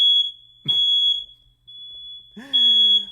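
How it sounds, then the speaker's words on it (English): A smoke detector shrills with a piercing, steady high tone that holds throughout, while someone talks in short bursts close to the microphone. "Guys, my fire alarm's going off during the live show."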